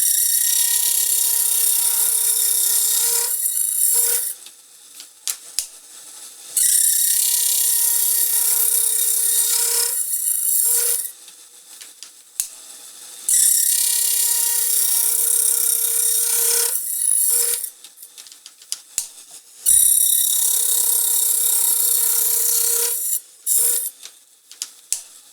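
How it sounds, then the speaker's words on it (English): Clock gear tooth-cutting machine with two saws, one for each edge of the tooth, whining steadily in repeated passes of several seconds, each broken by short clicks and knocks as the gear indexes around. "One saw cuts the leading edge and the other one cuts the trailing edge."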